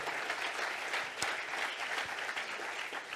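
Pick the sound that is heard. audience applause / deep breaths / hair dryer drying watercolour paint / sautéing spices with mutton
audience applause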